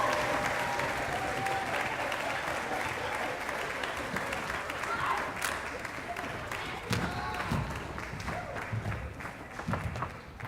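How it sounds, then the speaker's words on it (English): Sustained audience applause fills a school spring choral concert hall, steady and dense for about ten seconds, with scattered voices mixed into the clapping as it slowly thins toward the end. "A real quick round of applause for our soloists in that, Mr. Alex Erickson, Ash McHugh,"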